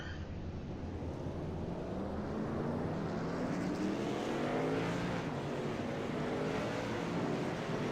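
Race cars of a short track series rolling out onto the track, a steady blended engine drone that swells as the field passes, with rising and falling engine tones, continuous and fairly loud, no talk.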